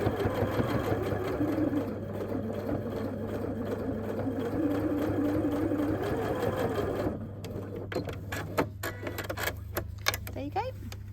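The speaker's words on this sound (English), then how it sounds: "So that's my very neatly top stitched flap for the bag." A domestic sewing machine runs in a steady, even whir while top stitching a fabric bag flap, then stops around seven seconds in and gives way to scattered clicks and handling noises as the work is moved.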